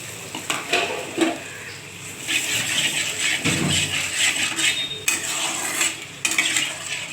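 Water poured into a hot pan of mustard, poppy seed, kalonji and green chilli curry seasoned with turmeric, salt and sugar, giving a steady close sizzling hiss with occasional metal utensil clinks and scraping.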